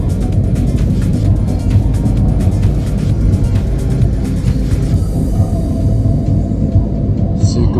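Continuous loud road roar as a PO Haryanto bus speeds along the Semarang–Kendal toll road, with heavy low rumble and tire noise throughout and a slight shift in the passing sound near the end.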